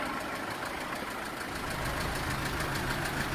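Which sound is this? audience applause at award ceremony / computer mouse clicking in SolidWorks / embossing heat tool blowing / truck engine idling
truck engine idling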